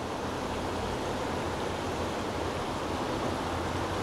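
Steady, loud broadband rush of a full river, constant and close, with no voices or breaks.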